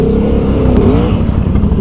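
A 2020 Can-Am Outlander XMR ATV with a swapped 850 engine, ridden through mud, drones loud and close with a steady low engine rumble that rises slightly in pitch, a faint clatter partway through.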